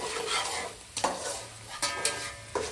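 Boti meat fry cooks in a pot on a home stove, sizzling steadily while it is stirred, with three sharp scraping clatters of a spoon against the vessel punctuating the frying noise, close by and without talk.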